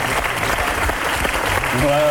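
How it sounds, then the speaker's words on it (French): Audience applause breaking out on a French television set, dense loud clapping from a studio crowd with voices talking over it. "Applaudissez."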